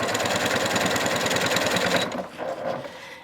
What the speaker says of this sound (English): I'm going to sew the open side.